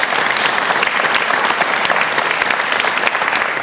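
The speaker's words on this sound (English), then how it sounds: "I would like to give another round of applause" Audience members at a talk session clap in a loud, close, steady round of applause with crisp individual claps audible throughout.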